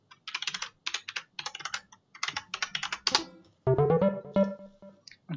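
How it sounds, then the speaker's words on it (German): Hard, fast typing on a computer keyboard, dense bursts of clattering keystrokes in several rhythmic runs with short pauses, close and loud, later joined by a tonal game sound. "Und ich verprügel hier meine Tastatur gerade."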